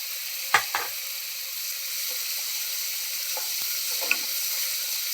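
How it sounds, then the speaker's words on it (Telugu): Onion tomato paste with chopped green chillies fries in a pan with a steady broad sizzle, and a few soft clinks and stirring scrapes of a utensil sound against the pan. "ఇది మన ఉల్లిపాయ టమాటా పేస్ట్ అండి. ఇది కొంచెం వేగనిద్దాం."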